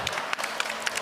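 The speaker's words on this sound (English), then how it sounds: "Please give a round of applause to distinguished Toastmaster Nino Sepulveda." An audience at a Toastmasters panel in a mall exhibit claps for a distinguished Toastmaster, a short burst of scattered, fairly close hand claps.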